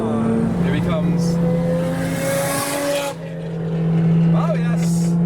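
Modified chaser car driving past while leaving a car show, its engine note holding steady then swelling louder as it nears, with people talking and exclaiming over it.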